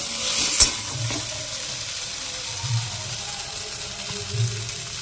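Oil drizzled over chicken in a hot pan, a steady bright sizzle with a sharp clatter near the start and soft low thumps of stirring recurring every couple of seconds, close up.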